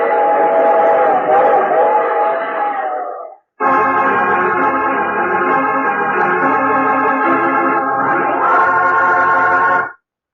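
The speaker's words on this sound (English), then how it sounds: "I take this same train every week at this same time." A loud train rumbling along the rails with a steady rhythmic clatter and a whistle-like tone above it, cutting out briefly before resuming.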